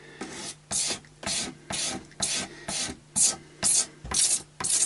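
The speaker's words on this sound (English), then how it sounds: "So a cheap version of the wood scraper, or the cabinet scraper I suppose they call it in proper woodwork." A cabinet scraper pulls lacquer off a Strat-style guitar neck in about ten even rasping strokes, each a loud scrape with a short pause between, close up with no talk.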